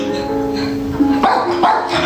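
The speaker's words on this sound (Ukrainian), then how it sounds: "Чого ти гавкаєш?" A dog barks and yips indoors at fairly close range, with a couple of sharp bursts over a steady background murmur.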